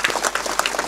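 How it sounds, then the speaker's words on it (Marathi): An audience at a comedy kirtan claps in a brief burst of dense, close applause. "सगळ्या मंडळी करता एकदा टाळ्या वाजवा सगळ्यांना."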